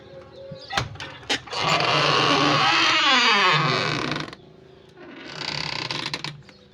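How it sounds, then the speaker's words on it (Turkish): An old door in a Turkish village house swings with two drawn-out, loud, close creaks that rise and fall in pitch, each lasting a couple of seconds, with a few sharp knocks before them. "Şöyle kapı sesinden artık kusura bakmayın."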